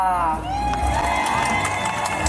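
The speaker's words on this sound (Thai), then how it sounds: "ขอฝากแรงเชียร์แรงใจ ให้กับน้องบุ๋มบิ๋มคนนี้ด้วยนะคะ" A crowd at a Midnight Songkran night pageant in Mae Hong Son, cheering and whooping loudly and continuously as a contestant is shown, with amplified voices and music mixed into the dense noise.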